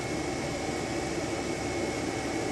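Steady, even whir of a pure sine wave power inverter's cooling fan running close by under about 1,500 watts of load, a constant broadband hum with no breaks or changes.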